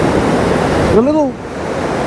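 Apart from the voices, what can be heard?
mountain stream water rushing over rocks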